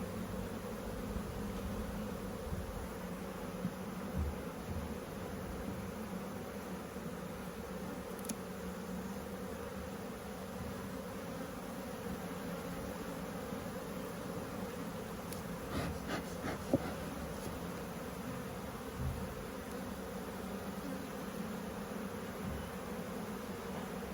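Honeybees buzz steadily around an open, crowded beehive during a frame inspection, a continuous close hum with a few brief knocks and rustles, and no voices.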